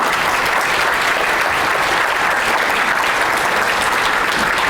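Sustained applause from a seminar audience at a Korean book concert fills the room, steady and dense throughout as a commentator is welcomed to the stage, with no voices rising above it.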